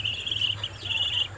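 Several chicks peep in a steady series of thin, high chirps at moderate distance, with a faint low hum underneath.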